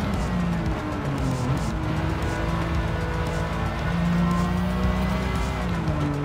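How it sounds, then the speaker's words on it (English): A Porsche race car in a racing video game, a continuous loud engine drone with shifting pitch as cars run close together, steady throughout with no talking. "Oh, okay, the Porsche is coming now."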